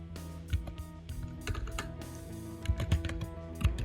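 Keystrokes on a computer keyboard while typing a topic into ChatGPT, a quick irregular run of close, soft clicks with a few louder taps.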